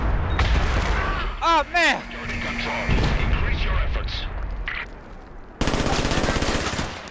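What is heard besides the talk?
grenade explosion and gunfire in Batman: Arkham Origins video game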